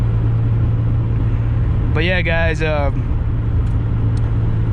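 Mazda Miata driving at night, its steady low engine and road rumble running continuously and fairly loud from an in-car position, with a person briefly speaking over it partway through.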